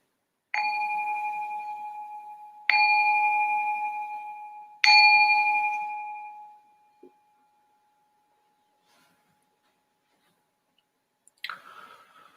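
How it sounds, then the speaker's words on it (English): A meditation bell rung to open a Buddhist tantric meditation session: three clear, resonant strikes about two seconds apart, each with a long shimmering decay, followed by near silence and a brief soft rustle at the end. "So I'm going to ring the bell to signal the start of our meditation."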